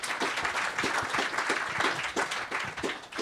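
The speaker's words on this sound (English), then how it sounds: "I think that deserves a round of applause for you" An audience at an academic lecture applauds steadily, a dense wash of many hands clapping that holds at an even level throughout with no talk on top.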